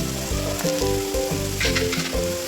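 Paneer masala sizzles and frys in a pan as coriander powder and red chili are stirred in, with steady hissing and repeated scraping strokes of the spoon throughout.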